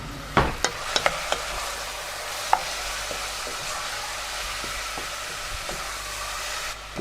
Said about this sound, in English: We can now add the onions, our celery and our carrots.